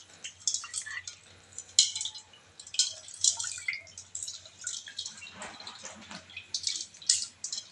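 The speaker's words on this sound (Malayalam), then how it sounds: "കറി വെക്കാനുള്ള പുളിവെള്ളം തയ്യാറാക്കാം." Tamarind water for curry trickles and drips in a quiet kitchen, a run of soft irregular splashes and droplets close by, with no one speaking.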